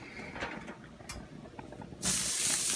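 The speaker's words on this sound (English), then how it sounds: "Listen to that sizzle." Food sizzles on a preheated grill greased with Pam cooking spray: quiet handling clatter, then a loud, steady, close hiss that swells and holds.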